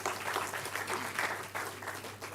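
A university inaugural lecture audience claps for the people who brought greetings, producing dense, sustained applause that swells and dips slightly while staying loud and continuous throughout.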